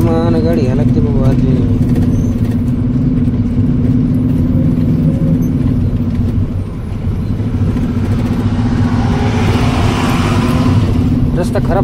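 Car crawling slowly along a badly broken, rough rural road, a steady loud engine drone and rumble throughout with people talking over it.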